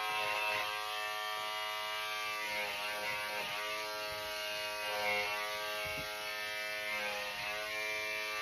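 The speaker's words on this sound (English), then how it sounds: "Using my clipper over comb also really enables me to see, hey, that piece is just a little bit long." Electric hair clippers cutting hair with the clipper-over-comb technique, a steady close buzzing drone with slight pitch wobble and small bumps as the blade passes through hair, running alone without talk.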